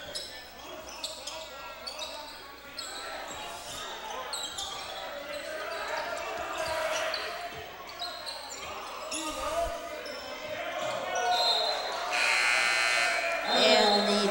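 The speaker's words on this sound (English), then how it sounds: "And the buzzer will sound there." A harsh electronic buzzer blares near the end of a boys' high school basketball senior night game against Santa Clara, sounding over crowd noise, shoe squeaks and ball bounces in a busy gym.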